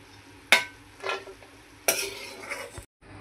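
Cashews, almonds and seeds fry in hot oil in a pan, with a soft sizzle punctuated by a few sharp stirring scrapes of a spoon against the pan, close up and without talk.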